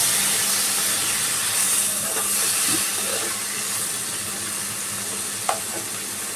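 Water poured onto hot spices in a pan for Bengali okra curry sizzles with a steady, hissing fry that softens slightly midway, with faint stirring clinks and one sharp tap near the end.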